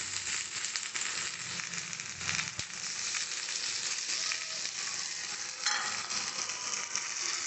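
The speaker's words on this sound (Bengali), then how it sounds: "এবার যে বাটা মশলাগুলো বেটে রেখেছিলাম, ধনে জিরে আদা রসুন, এই সব মশলাগুলো পেঁয়াজের মধ্যে সব দিয়ে কষে নেবো" Onions fry with ground coriander, cumin, ginger and garlic paste for a mutton curry, making a dense, loud, continuous sizzle up close with occasional stirring scrapes and no talk.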